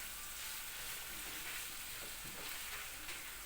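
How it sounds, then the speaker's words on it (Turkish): Carrots and potatoes frying together in a pan, a steady, even hiss of sizzling that runs the whole time, fairly quiet, with no talk over it. "Bunların hepsini birlikte kavurayım"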